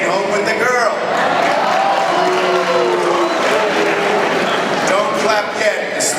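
A crowd at a high school graduation ceremony breaks into steady, loud applause that holds for several seconds, a broad continuous clapping wash with scattered cheers and voices mixed in.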